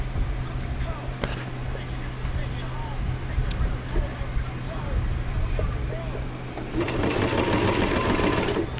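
Sewing machine running steadily at close range, its motor hum and rapid needle stitching continuous throughout, growing louder and busier toward the end.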